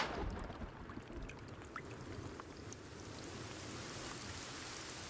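Soft, steady rain in Sons of the Forest hisses evenly throughout, a faint continuous wash of falling drops with no voices.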